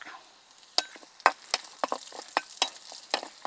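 Curry leaves crackle as they are dropped into hot oil with browned onions for a Kerala raw mango curry tempering, giving a string of sharp spitting pops over a soft sizzle.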